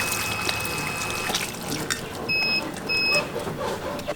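Water runs steadily from a tap as a broad hiss, with a couple of short electronic beeps partway through, at a handwashing station in an African village hotel.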